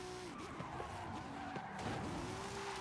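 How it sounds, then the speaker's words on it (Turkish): Audi RS 6 drifting in Forza Horizon 5, tires squealing and skidding in wavering, pitch-bending wails over a steady engine roar, loud and continuous with no speech. "Evet şimdi şurada bir drifte yatılır abi."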